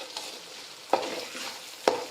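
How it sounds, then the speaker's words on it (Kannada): Peanuts and masala for churumuri are stirred and roasted in a pan, giving a steady soft sizzle broken by two sharp scrapes of the spoon across the pan. "ಈಗ ನೋಡ್ರಿ ನಾ ಎಲ್ಲ ಒಟ್ಟಿಗೆ ಹಾಕಿ ಹುರಿಯಾಕತ್ತೀನಿ ರೀ"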